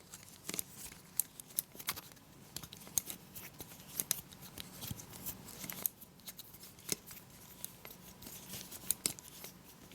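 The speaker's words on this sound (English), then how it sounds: "here's the screwdriver working on this screw on the handle of the Kershaw Camp 12" Small, sharp clicks and scrapes from a screwdriver turning a screw in the handle of a Kershaw Camp 12 knife, irregular ticks close up over quiet background.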